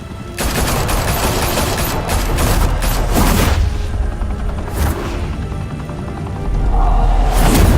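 Sustained gunfire fills the Batman Telltale Series game scene, loud dense bursts of automatic shots and booms rolling continuously for several seconds with no pause, swelling again near the end.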